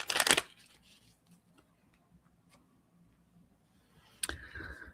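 Tarot cards shuffled by hand, a short riffling burst at the start and another near the end, close and crisp, with faint ticking and quiet handling in between.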